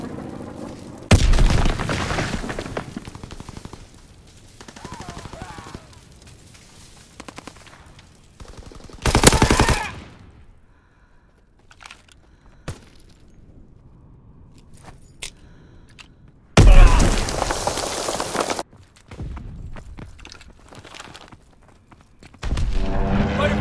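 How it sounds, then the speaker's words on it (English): Game gunfire from a fighter plane strafing run, several loud bursts of rapid shots separated by quieter stretches of background noise and small clanks, with distant crackling between bursts. "Fighter pilot inbound. Strafing the target."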